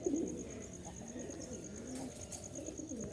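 A slightly sick Jalali pigeon perched in a tree gives soft, low, repeated coos, close by and steady over a faint background hum.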